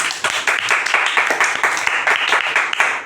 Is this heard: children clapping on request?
yes